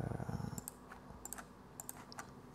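Clattery bursts of keystrokes on a computer keyboard during programming work, with a quick cluster of taps at the start, then sparser individual clicks, close to the microphone and with no voices.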